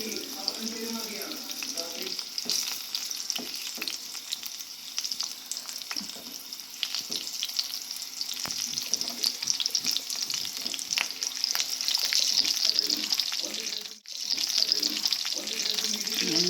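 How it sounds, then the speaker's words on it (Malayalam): Eggplant slices fry in a pan over a lowered gas flame, giving a steady, close sizzle and crackle that carries on unbroken with small bumps and one brief dip near the end. "അതൊന്ന് ഏകദേശം ഒരു സൈഡ് ഇച്ചിരി ഫ്രൈ ആയിട്ടുണ്ട്."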